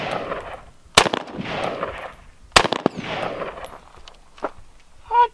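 Two loud, sharp shots from a .50 calibre gun fired at a bulletproof jacket, spaced about a second and a half apart and each followed by a rolling echo, with faint movement sounds after.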